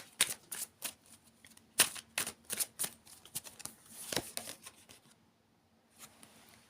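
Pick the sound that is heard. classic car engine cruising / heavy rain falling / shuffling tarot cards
shuffling tarot cards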